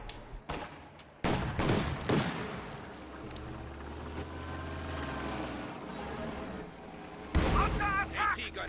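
Quad mount anti-aircraft gun in Company of Heroes 2 fires through a tree line in a Soviet 1v1 match, bursts of heavy gunfire and booms amid low engine rumble, loud and close, with commentary talk running over it.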